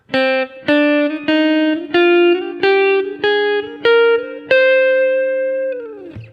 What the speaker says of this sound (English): the natural minor scale would look like this and sound like this